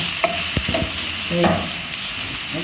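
Ground beef with chayote and carrots stirred in a pan with garlic and ginger, giving scraping utensil strokes and a light sizzle, close and fairly steady over a short stretch.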